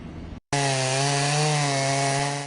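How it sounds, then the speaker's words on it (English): A chainsaw runs at steady high revs while cutting wood, loud and close, during cleanup of trees downed by high winds. The clip opens with a brief noisy burst, then a short gap before the sustained whining buzz. "he took out his chainsaw"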